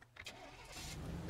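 A car engine in the video game Teardown cranks and catches, then idles and pulls away. The whole sound is brief, quiet and alone, with a short sharp click near the end.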